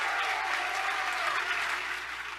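Sustained applause from a crowded lecture audience, a dense wash of clapping at an even level that eases slightly near the end.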